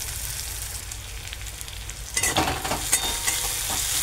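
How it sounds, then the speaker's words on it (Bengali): Small chuno fish fry with turmeric and salt in a pan, giving a close, steady sizzle; about halfway through, louder scraping and clattering stir strokes break in over the hiss, with no voices. "একটু হলুদ আর একটু লবণ দিয়ে নাড়াচাড়া করে ভাজার জন্য একটু সময় দিতে হবে"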